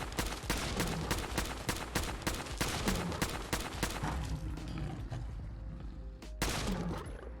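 Rapid bursts of gunfire from a Frommer Stop pistol mod with an extended magazine aimed at a Deathclaw in Fallout 4, loud, close shots in a quick rhythm, a brief pause, then a few more shots.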